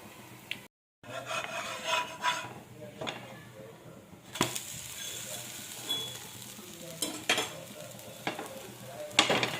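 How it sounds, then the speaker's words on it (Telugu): A millet dosa frying in a little oil on a pan gives a soft, continuous sizzle with occasional scraping and rubbing strokes from a spoon or spatula, close and low in level. "లైట్గా ఆయిల్ పోసి ఒక స్పూన్ వేసిన కాల్చుకోవాలి"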